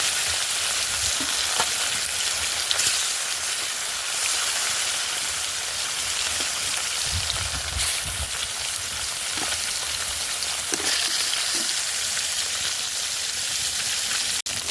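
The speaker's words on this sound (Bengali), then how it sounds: "এবার মিশিয়ে রাখা মাছের পিসগুলো আস্তে আস্তে তেলের মধ্যে দিয়ে ভেজে নেব" Fish fries in hot oil with a loud, continuous sizzle close by, broken by an occasional soft clink or scrape.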